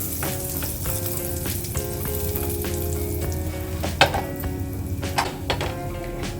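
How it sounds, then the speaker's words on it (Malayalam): Halved pav buns toasting in butter in a pan for pav bhaji, a steady close sizzle with a few sharp clinks and scrapes of utensils toward the end, no talk. "പാനിനകത്ത് ബട്ടർ ഇട്ട് കൊടുത്ത് പിന്നെ മുറിച്ച ബണ്ണ് ബട്ടറിലൊന്ന് നമുക്കൊന്ന് ചെറുതായിട്ടൊന്ന് മൂപ്പിച്ചെടുക്കാം."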